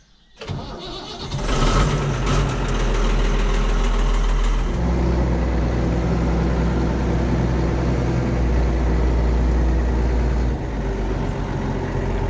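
A large diesel tractor engine cranks over, catches and settles into a steady, rumbling idle close by, running on without any talking.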